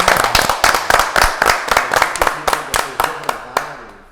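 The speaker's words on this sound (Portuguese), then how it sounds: "E uma salva de palmas para todos aí." Applause from a bank workers' union gathering in Guarulhos, a steady patter of many hands clapping close by, with sharp individual claps standing out throughout and no talk.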